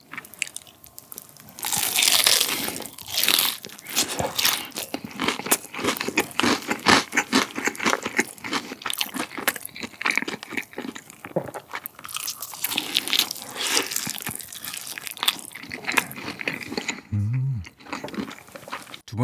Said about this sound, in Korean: 좀 더 먹어볼게요